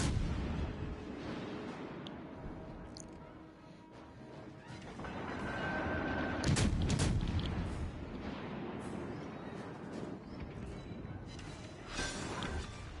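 Warship guns fire on an enemy destroyer in a naval video game, giving fairly quiet, heavy booms and crashes with a louder cluster midway and rumbling noise between the blasts.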